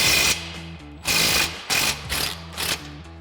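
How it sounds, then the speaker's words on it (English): An impact wrench with an 18mm socket rattles off the lower shock mounting bolt on a 2016-2024 Camaro during a coil-over install, in several loud hammering bursts close up. "So we'll grab our 18mm socket on our impact"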